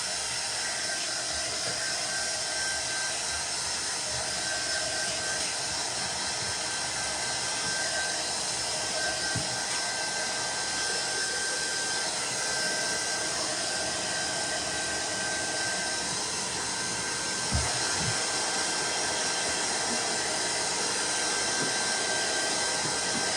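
A hair dryer blows steadily on a painted scarecrow sign to dry the paint, a continuous close whooshing drone that holds unchanged with no talking.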